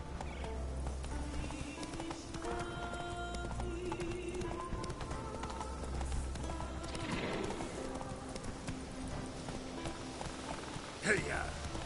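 Horse hooves clip-clop at a steady galloping rhythm in The Witcher 3: Wild Hunt, with an occasional whinny, game music beneath, and a voice calling out over the hoofbeats.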